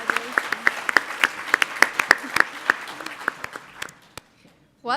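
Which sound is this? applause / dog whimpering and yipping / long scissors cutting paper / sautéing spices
applause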